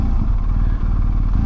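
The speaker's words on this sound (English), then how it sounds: "I've got the stock exhaust on this R1250." A BMW R1250 GS motorcycle engine with stock exhaust runs steadily and loudly up close, its low rumbling exhaust note holding even throughout with no speech.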